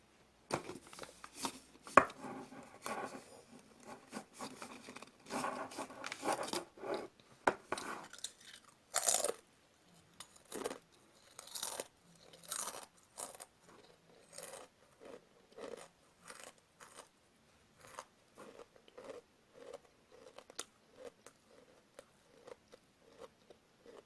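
Two crunchy pieces are chewed at once close to the mic, with quiet, irregular bursts of crisp crunching that come thickly at first and then thin into scattered bites.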